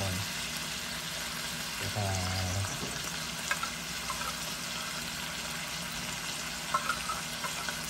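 Tomatoes and onions sauté in a little oil for corned beef, giving a steady soft sizzle broken by a few stirring clinks and scrapes, fairly quiet and close, with no talking.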